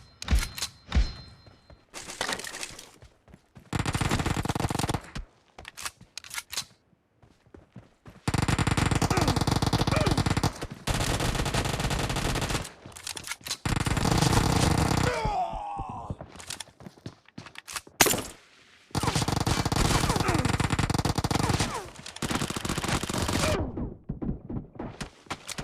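Uzi submachine gun fire in a PUBG 1v2 gunfight, heard as several loud sustained bursts of rapid automatic fire separated by short quiet gaps, with thumps and brief noises in between.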